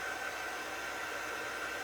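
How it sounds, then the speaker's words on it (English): A hair dryer blows a steady, close, loud whooshing rush with a thin whine over it, drying a glued craft shelf-sitter piece without pause for the whole stretch. "So I'm going to hit that with the dryer."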